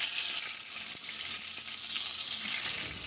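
Fish sizzles in a frying pan, a dense, steady crackle and hiss heard up close with no talking.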